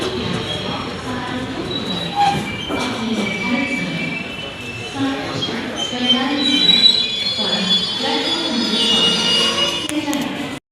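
Mussoorie Express pulling into Delhi Junction (Old Delhi), wheels squealing steadily against the rails under a continuous rumble of moving coaches, loud and close throughout, with faint voices in the background.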